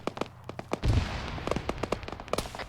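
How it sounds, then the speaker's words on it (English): Sharp gunshots cracking from behind, a rapid irregular string of close, snappy reports over a low rumble, with a brief thud near the start. "We're getting shot at from behind."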